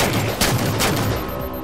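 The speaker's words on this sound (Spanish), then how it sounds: "Ahora sí que disparo a matar" Rapid bursts of gunfire in the video game Halo 4 crackle in quick succession, loud and close, with a couple of sharper shots standing out from the rattle.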